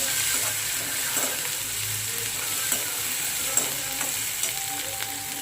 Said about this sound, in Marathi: यामध्ये टोमॅटो ॲड करू मस्त असं टोमॅटो परतून घ्यायचा